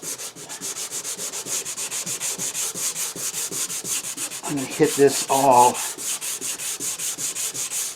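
Steady rhythmic hand sanding on wood, repeated scratchy back-and-forth strokes close by, with a brief spoken remark in the middle.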